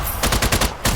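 Rapid SMG bursts in the video game Strange Brigade, loud and close, with short fast-firing volleys broken by a brief pause near the end.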